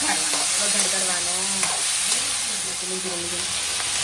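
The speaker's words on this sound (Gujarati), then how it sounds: "હવે એમાં વઘારવાનો. વઘાર કરવાનો." Tempering sizzles in a pot of pressure-cooked boiled beans, a steady loud frying hiss with stirring, while voices talk faintly underneath.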